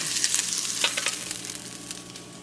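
Meat chunks sizzle loudly in a pan with mushrooms and juice while cooking a pasta dish, a close, dense crackling hiss with stirring bursts early that settles to a steadier fry.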